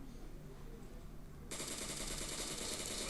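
Bursts of automatic gunfire from the video game PUBG Mobile break out suddenly partway through and rattle on steadily, fairly loud, after a quieter stretch of game ambience.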